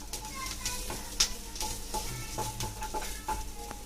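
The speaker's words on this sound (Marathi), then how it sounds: "थोडंसं भाजून घेऊया हलकसं." Green chillies roasting lightly in a pan for a winter methi matar gravy, with a steady soft sizzle and scraping stirs throughout, one sharper clink partway.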